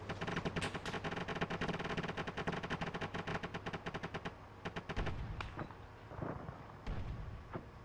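Machine gun fire in a military video game, rapid sustained bursts of loud shots that thin out into scattered single reports and heavy booms toward the end.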